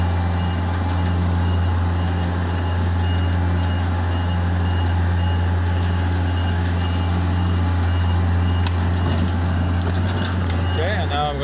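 An HR21D/SP64D vehicle backs up with its reversing alarm beeping steadily and repeatedly over a constant low drive hum, clear and close throughout.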